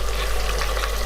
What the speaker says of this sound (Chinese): 最后收汁的时候要把牛仔骨翻一下身